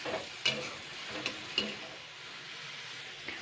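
Gado greens (shak) frying in a pan for a Bengali fish curry, a soft continuous sizzle punctuated by a few sharp scraping clicks of stirring, no voices.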